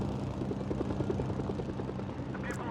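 A helicopter hovers in the military action game Mercenaries, its rotor giving a steady, fast rhythmic chop over a heavy engine drone, loud and constant throughout.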